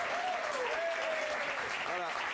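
Steady applause from a studio audience on a French television talk show, a continuous dense wash of clapping with a few tonal voice-like traces running over it.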